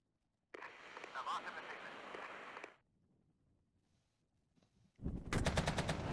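Tank gunfire in a strategy video game: a sustained burst of rapid automatic-style fire, a pause with faint background, then another loud crackling volley at the end.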